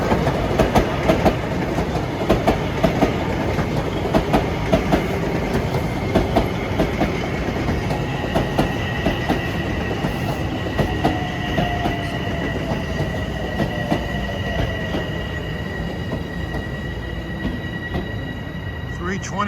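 An LIRR train on the Main Line rolls past close by, a loud steady rumble with rhythmic wheel clacks over the rail joints and high squealing tones from the wheels throughout.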